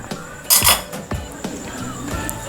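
A ladle clinks against a bowl while pork bone and radish soup is served: several bright metallic taps and scrapes, close and irregular, with one louder clatter early on and soft rattles after.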